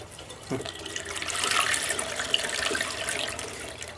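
Engine oil from a Ford F-150 pouring out of the drain during an oil change, a steady close splashing stream much like running water that builds after a thump and holds on.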